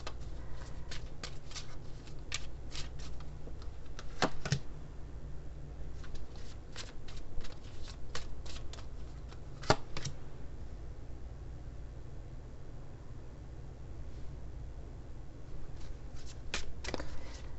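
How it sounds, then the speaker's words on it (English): Lenormand cards being shuffled by hand, heard as soft repeated riffles and flicks in bursts over a steady low hum, close and fairly quiet, with no talking. "Let me go ahead and pull a couple of Lenormand cards here."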